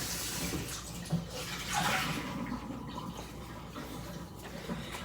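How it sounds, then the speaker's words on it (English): About a cup to a cup and a half of water being poured into a crock pot of meat and potatoes, a soft continuous splashing fill, close and fairly quiet. "I am going to put maybe, maybe a cup of water, a cup and a half of water in there"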